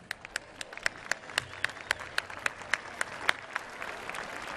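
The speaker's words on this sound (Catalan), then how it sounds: "Un aplaudiment ben fort." Applause from a beach audience at a havaneres singing concert in Calella de Palafrugell, heard at a distance with a steady wash of clapping and a few sharper individual claps standing out.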